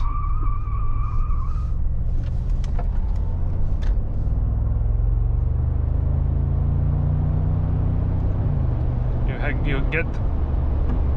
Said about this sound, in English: You get a lot of these emotions from the, we can say, the sound of this V8